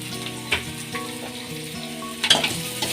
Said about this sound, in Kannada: ಎಲ್ಲನೂ ಎಣ್ಣೆಲೇ ಫ್ರೈ ಮಾಡ್ಕೋಬೇಕು.